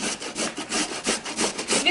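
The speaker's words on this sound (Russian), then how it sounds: "Свеклу трем на мелкой терке." Beetroot rubbed rapidly on a fine grater, a loud, close rasping scrape repeating in quick back-and-forth strokes, about eight in two seconds, with no voices.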